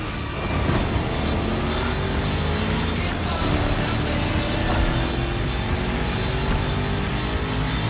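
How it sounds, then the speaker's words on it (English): A 1969 Mustang Boss 429 in the racing game The Crew Motor Fest, its V8 engine droning and rising steadily as the car accelerates, loud and continuous with no talk. "You're driving my #1 car, the star of my collection, the 1969 Mustang Boss 429."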